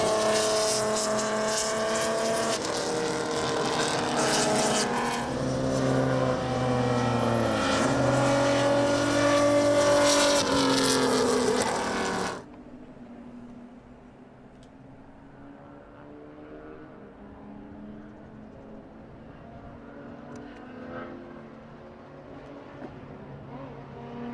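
BMW touring race cars in the ITCR 3600 class race at the Mandalika circuit with turbocharged engines, a loud, close roar of several cars that passes by and then drops suddenly to a fainter, distant engine drone.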